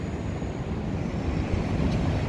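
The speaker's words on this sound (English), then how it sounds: "you may see some airplanes and hear the airplanes going by" Airplanes flying over downtown Chicago during an air show practice run make a steady, broad roar with a low rumble, heard from a high vantage point amid city ambience.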